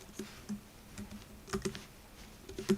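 Quiet typing on a computer keyboard, with irregular soft key clicks in small bursts and brief pauses between them, close and faint, with no talking.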